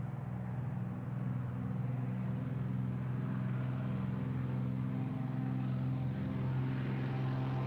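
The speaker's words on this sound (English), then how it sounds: "Those engine sounds." A small propeller airplane at Cornelia Fort Airpark rolls for takeoff with a steady, low, droning engine hum that holds evenly throughout and has no voices over it.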